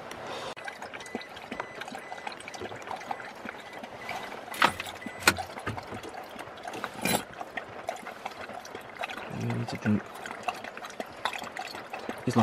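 Water pours and trickles steadily into a container for a dog, with a few louder splashes and clunks along the way.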